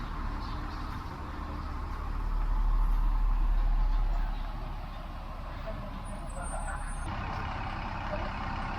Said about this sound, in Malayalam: എന്താ സൗണ്ട് അല്ലേ കുമിൻസിൻ്റെ?